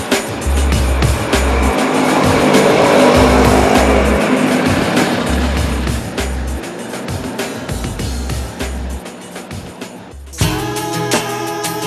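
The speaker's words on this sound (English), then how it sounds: "this tuk-tuk with the 3 of us in it was going to have some struggles getting up the hills" A tuk-tuk carrying three passengers strains up hills in Sri Lanka with a loud, rough engine drone that rises and falls. The sound shifts abruptly shortly before the end.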